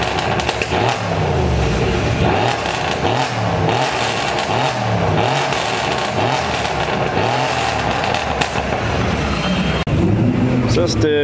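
A Mazda RX-7 FD sports car at a car meet, its engine revving and rumbling loudly and continuously up close, with crowd chatter mixed underneath.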